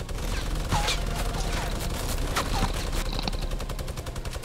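Rapid gunfire crackles in a Fortnite Battle Royale match, dense bursts of automatic shots rattling continuously and loudly throughout, with faint voices in the background.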